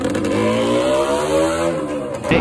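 A Suzuki Shogun 220cc twin-cylinder motorcycle engine revs loudly up close, a steady mid-pitched exhaust drone that climbs and holds, then drops back near the end.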